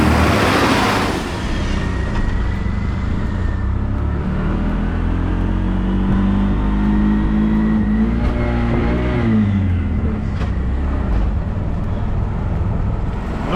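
A bus driving past on a Sri Lankan road near an elephant, its engine rising from a low rumble into a loud revving pass close by, then fading as it moves away, with no voices.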